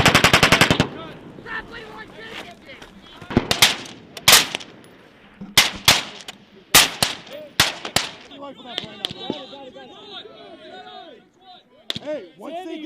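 Rifle and machine gun fire from a Marine rifle squad's live-fire attack, with rapid bursts up front, then loud single shots and short volleys at irregular intervals, while voices shout commands between the shots.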